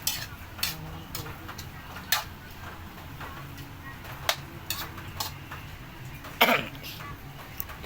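A utensil stirs and scrapes food in a pan during home cooking, giving irregular clinks and taps against the metal, fairly close but quiet, with a cough-like sound among them.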